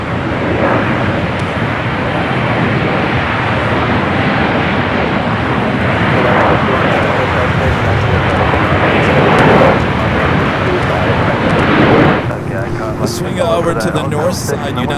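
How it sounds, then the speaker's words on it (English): United Airlines Boeing 737 MAX 9 arriving from Las Vegas at Los Angeles International Airport: a steady, broad jet roar rises gradually and then cuts off sharply near twelve seconds, leaving quieter ambience, with voices talking throughout. "The flight coming in from Vegas at a 737 MAX 9."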